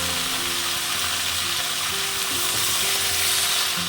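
Leafy greens hit hot oil seasoned with dried red chilli, setting off a loud, dense, continuous frying hiss that fills the whole stretch, with faint stirring beneath and no voices.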